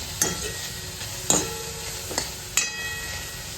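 Onion frying until reddish in a pan for aloo paratha filling, a steady close sizzle broken by a few sharp spoon scrapes against the pan, no voices.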